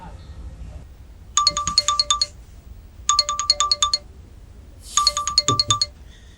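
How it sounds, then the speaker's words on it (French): A phone ringtone plays three short bursts of bright, repeating electronic tones separated by pauses, with a faint voice underneath. "Ça sonne."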